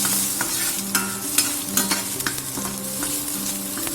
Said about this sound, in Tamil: இப்போ பட்டர் உருகி வந்தோன்னா ஒரு 7 பூண்டு பற்களை வந்துட்டு தட்டி சேர்த்துக்கலாம்.